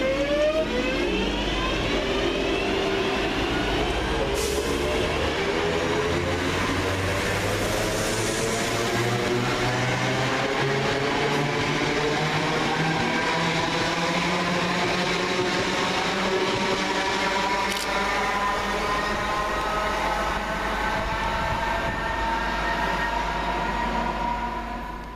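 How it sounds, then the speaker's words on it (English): A pair of West Midlands Railway Class 323 electric multiple units, 323-205 and 323-220, pass through Bournville station, a sustained rising and falling electric motor whine with rumbling wheels on track and brief clanks, close and loud throughout. "Next train out is 323-205 and 323-220, working the 1438 West Midlands Railway service from Bromsgrove to Lichfield"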